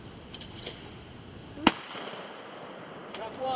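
A single loud shotgun blast at an outdoor trap shooting range cracks sharply and then decays into a rolling echo. Faint voices and quiet background ambience fill the surroundings before and after the shot.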